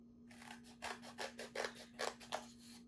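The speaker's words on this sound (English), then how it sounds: "I'm going to take my scissors and cut out that strip" Scissors snip through a painted paper strip at close range in a quiet room, giving about eight crisp, evenly spaced cutting strokes in a steady rhythm.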